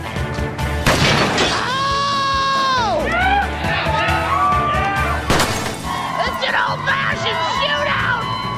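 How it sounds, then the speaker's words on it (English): Gunshots shatter house windows during a home demolition, with sharp glass-breaking crashes amid loud whooping, cheering and shouting from a crowd. "My favorite part of the demo was shooting out the windows."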